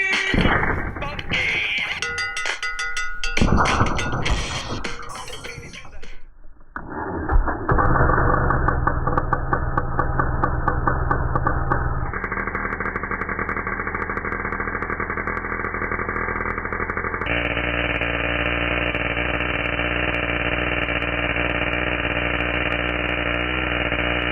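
An HPI Savage XL K5.9 nitro RC truck engine is cranked and fires up after some clattering handling noise, then settles into a loud, steady buzzing idle that rises in pitch in a few distinct steps.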